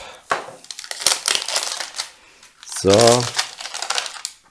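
Plastic film being peeled and crinkled off a stackable Pokémon tin box, with several bursts of crackling spread across the clip and a brief spoken word partway through.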